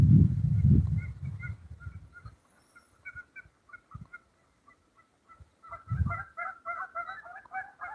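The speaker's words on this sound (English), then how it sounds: "Hear the ducks or the geese." Waterfowl, ducks or geese, call in a burst of short honking and quacking notes near a quiet fishing spot on the water, with low rumbling handling noise at the start and again partway through.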